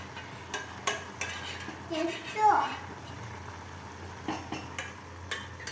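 A kalakand mixture with chopped cashews is stirred in a pan, giving soft repeated scrapes and light taps of a spoon over a faint sizzle, fairly quiet and close.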